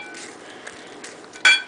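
Banana bread batter stirred by hand in a mixing bowl: a soft, steady scraping with one sharper clink of the utensil against the bowl near the end.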